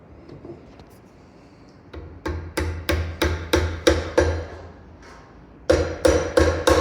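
Maple inlay is tapped into grooves in a custom-built wooden table with sharp, close knocks. A run of about nine steady taps is followed by a short pause, then a few more in quick succession.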